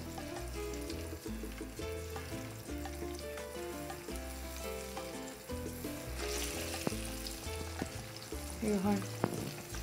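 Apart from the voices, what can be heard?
plantain canoas frying in a small frying pan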